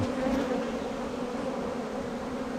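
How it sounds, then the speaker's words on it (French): Honeybee hive during a honey harvest, where a bee chews through the wax cap of its cell to emerge. Close, steady buzzing and humming of many bees fills the whole stretch, with no voices. "on voit une abeille qui est en train d'émerger"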